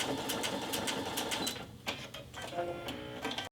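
A Baby Lock Vesta sewing machine runs a giant quilt stitch, a steady mechanical hum with rapid needle clatter, close and fairly quiet, with a brief shift in rhythm midway.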